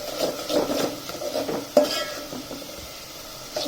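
A spoon stirs fenugreek sabji in a pan with soft, rubbing scrapes and a faint sizzle underneath, close and fairly quiet, with one sharper knock of the utensil partway through.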